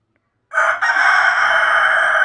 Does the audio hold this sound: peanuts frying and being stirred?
no